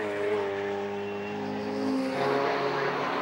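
Lotus Elise race cars racing at Castle Combe circuit, engines droning and building in pitch as the cars pass, heard at a middle distance without clear speech.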